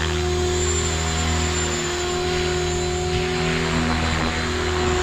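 A Synergy 516 RC helicopter flies nearby with a loud, steady high-pitched rotor and motor whine whose pitch shifts slightly as the throttle is varied; no voices.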